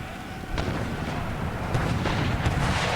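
Musket and artillery fire during a siege of Madrid in the strategy game Empire: Total War, a series of sharp distant cracks and booming reports scattered over a rumbling battle din.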